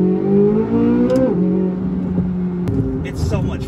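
A Chevrolet Corvette with a 670-horsepower naturally aspirated 5.5-liter dual overhead cam V8 pulls hard from a standing start, its engine note climbing, dropping at a shift and climbing again while someone talks over it.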